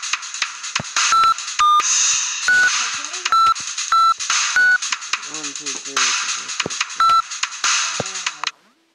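Phone keypad tones beep in a rapid uneven series, with steady hiss and a few clicks between presses, as a telephone number is dialed at home. The sound fades out near the end.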